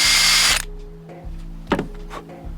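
A handheld power drill bores into a keyring, whining loudly at close range for about half a second before cutting off, followed by quieter clunks and handling knocks.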